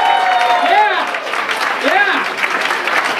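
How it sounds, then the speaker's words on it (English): Crowd applauds a magic act at the Magic Castle, steady clapping with cheers and whoops rising over it, and a voice speaking briefly. "Let's hear it for Josephine"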